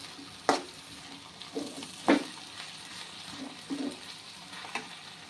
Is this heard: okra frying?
yes